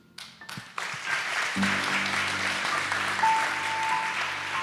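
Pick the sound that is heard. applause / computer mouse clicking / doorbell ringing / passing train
applause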